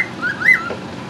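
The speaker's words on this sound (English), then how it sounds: "Bird over here making noise." A caged pet bird gives a short, clear whistling call indoors, rising and falling once over a quiet room background.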